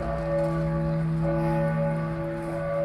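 Church bells ring at St. Martin's Cathedral in Bratislava, heard from outside during a festive peal, a loud sustained bell drone with steady humming overtones and no voices.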